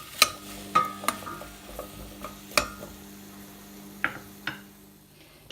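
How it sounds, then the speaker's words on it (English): Parsnip and onion are being stirred in a pot, a spoon scraping and knocking in several sharp clacks over a low steady sizzle, close and fairly quiet with no talk. "And then just give them a mix around with the onion."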